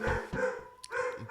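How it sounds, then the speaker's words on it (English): Pet dogs barking indoors, a few sharp, close barks in quick succession with a brief yip between them, loud and alone. "Wow, my dogs like to bark."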